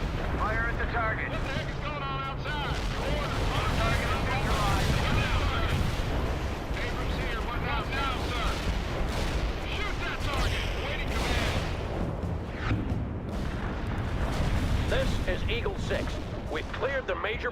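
Dense, continuous battle din from World in Conflict: rolling explosions, artillery booms and rapid gunfire crowd the whole stretch at high volume, with radio-style voices talking beneath.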